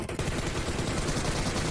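Dense, continuous burst of rapid gunfire in PUBG Mobile, fired from a window, loud and close, rattling on without pause for the whole stretch.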